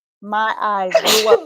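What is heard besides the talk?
sneeze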